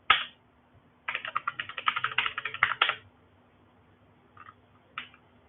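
Typing on a computer keyboard while entering a Linux command: a quick burst of clicking keystrokes, then a few isolated taps separated by pauses, close and fairly quiet, with no talking.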